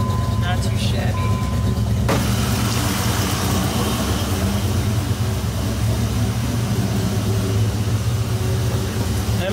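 A 1997 Dodge Viper with performance upgrades idles while warming up, a loud, close, steady deep rumble that runs unbroken after a brief different noise at the start.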